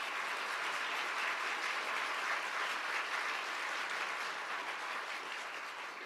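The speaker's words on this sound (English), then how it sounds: "we should give them a big hand for what they do for our state" A forum audience breaks into sustained applause, a dense even wash of many hands clapping that holds steady for several seconds and eases slightly toward the end, with no talking over it.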